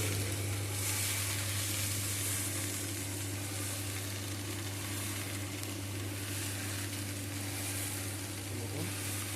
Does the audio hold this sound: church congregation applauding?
no